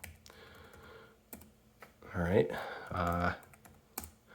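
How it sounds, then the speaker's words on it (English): Keys clatter on a Toshiba Satellite laptop keyboard as a login is typed, quick irregular clicks at close range, with someone briefly speaking over them. "So if I start typing in, a login, I can actually log in"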